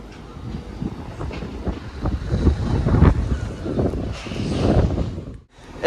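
Class 197 diesel train unit 197123 rumbles at Cardiff Central station, a steady low engine and rolling noise under gusty wind buffeting the microphone.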